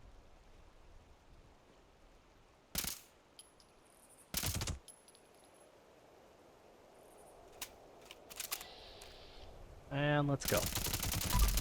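Short bursts of gunfire from a weapon in Fallout 76, a few separated volleys against quiet background, with a brief spoken line.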